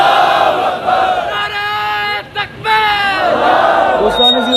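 A large rally crowd roars back a loud, sustained chorus of voices in answer to the Takbeer chant, filling the air with massed shouting that briefly dips before surging again.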